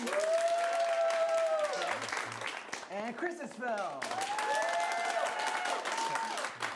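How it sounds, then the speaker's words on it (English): A Portland audience at an improv comedy shootout gives a polite round of applause to vote for a film, steady clapping that carries through the whole stretch while a host speaks over it. "little polite Portland round of applause"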